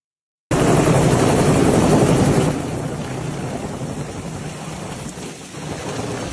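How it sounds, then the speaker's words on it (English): A helicopter in footage of a crash at Huntington Beach gives a loud, dense, rushing roar that fills the clip, easing slightly after a couple of seconds but staying steady and close. "Really close angle of the Huntington helicopter crash."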